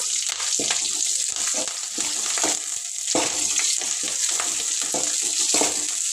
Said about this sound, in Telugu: కరేపాకు అలాగే ఉల్లిగడ్డ పచ్చిమిర్చి ఇప్పుడైతే ఒకసారి కలిపేస్తాను